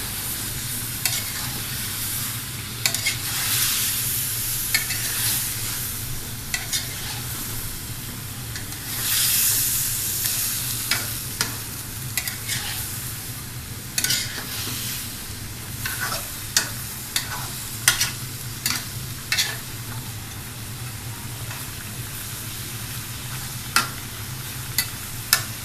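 Bottle gourd stir-fried with braised meat in a pan, a continuous loud sizzle and hiss with repeated scraping and stirring clatters scattered across the stretch.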